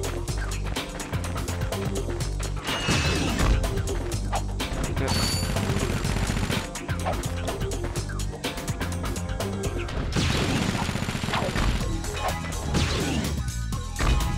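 Dense gunfire, crashes and explosions from the video game Ratchet & Clank HD, loud and continuous with sharp repeated impacts layered over game music and effects.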